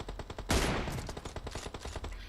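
Rapid gunfire bursts from a PUBG Mobile match, a loud crack followed by a quick run of evenly spaced shots that continues steadily to the end.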